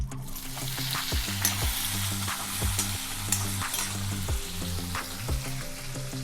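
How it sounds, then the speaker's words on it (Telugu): Large pieces of capsicum frying in a pan for a restaurant-style paneer capsicum curry: a continuous close sizzle with repeated stirring scrapes and clacks of a spoon against the pan, and no one talking. "ఇప్పుడు మనం వీటిని కూడా ఫ్రై చేసుకుందాం"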